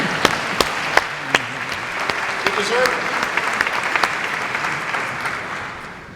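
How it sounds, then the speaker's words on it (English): An audience at a world forum in Lille applauds steadily, with some sharp individual claps standing out near the front. Someone speaks over the clapping partway through. "yeah, you should applaud for yourself"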